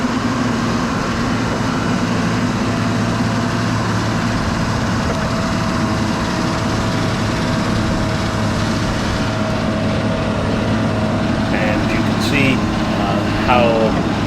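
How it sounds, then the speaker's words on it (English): A bulldozer pushes topsoil aside during groundwork for a driveway, giving a steady, loud engine drone with a low rumble that holds for the whole stretch, while voices murmur faintly underneath. "the bulldozer has to push that all out of the way before we can infill and make our driveway"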